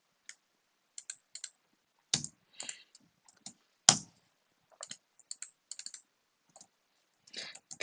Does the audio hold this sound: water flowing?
no